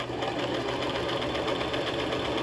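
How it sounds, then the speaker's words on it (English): Sewing machine stitching a wig track, sewing backwards slowly, giving a steady continuous whirring hum with close, loud, even mechanical texture and no voices. "I'm going to sew backwards really slowly"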